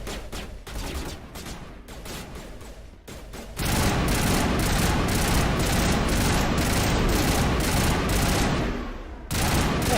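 Sustained assault rifle fire from Mass Effect 1, loud and close, with rapid continuous bursts that thicken into a dense unbroken fusillade for most of the stretch.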